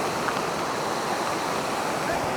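Waterfall at Torna Fort crashing down in a steady, dense roar of falling water, close and loud throughout with no break.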